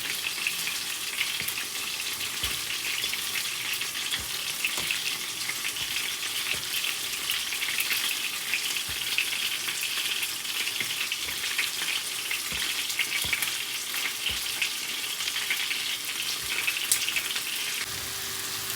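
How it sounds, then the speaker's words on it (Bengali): Fish frying in oil in a home kitchen, a dense, steady crackling sizzle held close for a long stretch, with faint clinks and a hint of running water in the background. "মাছ ভেজে তুলে নিচ্ছি"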